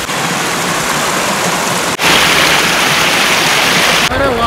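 River water splashes loudly and continuously around people bathing in an outdoor river near Katra, Jammu, a dense rushing wash close by, broken by one brief cut midway and a short voice near the end.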